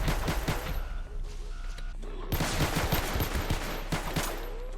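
Gunfire from guns in the Space Station 14 video game, during a round full of explosives: rapid crackling bursts of shots that keep firing throughout, a short pause, then a heavier and denser volley, loud and close.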